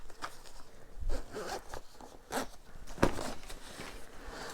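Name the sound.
zipping up a Manfrotto Aviator drone backpack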